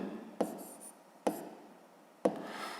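Handwriting an answer on paper: three distinct, quiet strokes spaced about a second apart, each a sharp tap followed by a brief scratchy drag, close and isolated with no talking.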